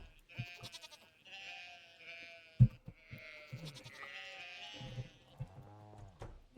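Goat in The Sims 4 bleating repeatedly from nearby, several wavering cries in quick succession over a quiet game background.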